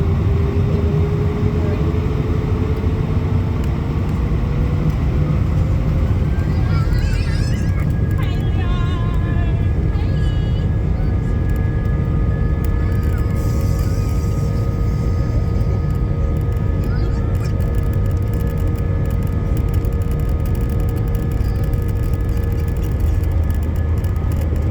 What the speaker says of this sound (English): My flight taxied to runway 16 right, where it departed in a southerly direction.